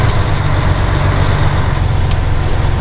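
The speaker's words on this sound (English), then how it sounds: "Window down so we can hear cool truck noises." A truck drives on a road, heard through an open cab window, as a loud, steady engine rumble and road roar that continues unbroken, with no talk.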